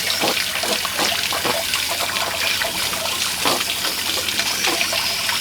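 Water gushing and splashing out of an RV water heater as it is flushed, a loud continuous rushing spray with uneven surges.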